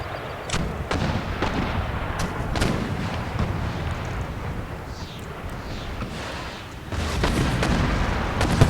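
Mortar and artillery fire in an Empire: Total War siege battle, with repeated booming cannon shots and blasts at irregular intervals over a rumbling battlefield din, growing heavier near the end.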